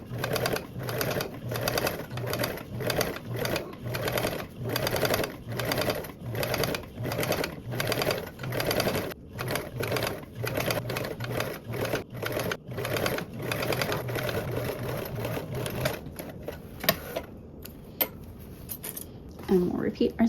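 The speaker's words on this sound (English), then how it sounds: "I'm gonna top stitch my top arch, since that's the side I decided to top stitch on." Sewing machine top stitching along a fabric arch on a color-blocked duffle bag panel, running in a fast steady rhythmic whir for most of the clip before stopping, with a few handling clicks at the end.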